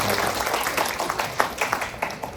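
An audience at an education administration forum discussion claps together in a steady, dense patter of applause that fills the room at moderate loudness.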